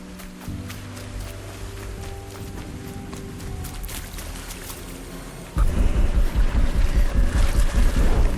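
A character wades through water in the video game Horizon Zero Dawn: after a quieter ambient stretch, loud rhythmic splashing and sloshing steps start abruptly and repeat steadily until the end, with no talking.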